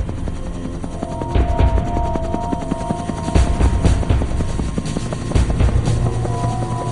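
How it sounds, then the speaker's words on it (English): Helicopter rotors thump steadily and loudly throughout during a flood evacuation, with a continuous engine drone and rhythmic chopping pulses close overhead. "The helicopters called in to evacuate those trapped"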